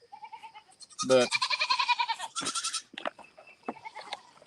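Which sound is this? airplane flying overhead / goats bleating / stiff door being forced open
goats bleating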